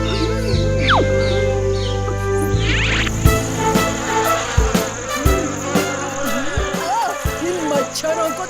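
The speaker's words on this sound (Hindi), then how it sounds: "इन मच्छरों को तो मैं।" Cartoon mosquitoes buzz in a whiny, continuous drone, layered over busy background music and other animated sound effects.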